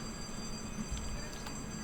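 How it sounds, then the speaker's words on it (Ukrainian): A train rumbling toward a railway crossing in a video game, a steady low mechanical rumble with faint high whines, continuous and fairly close, with no clear voice over it. "зараз у нас буде поїзд"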